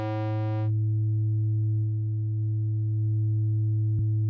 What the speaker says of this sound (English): first we have a sine wave